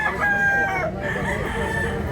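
A rooster crows once, loud and close, a drawn-out call amid a noisy background of murmuring voices and clucking.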